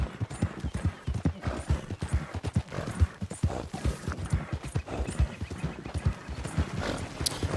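Horse hooves clip-clop steadily at a walking rhythm in Red Dead Redemption 2, close and clear with a continuous game soundscape underneath.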